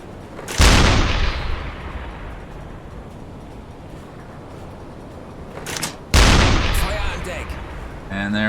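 In the UBOAT submarine game, a deck gun fires high-explosive shells at a Dale class ship: two heavy booms several seconds apart, each with a long rumbling decay.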